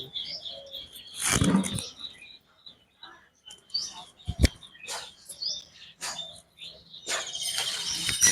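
Fancy pigeons in their coop make scattered chirps and soft calls, with a few sudden bursts of wing flapping. The sounds are close and intermittent, with quiet gaps between them.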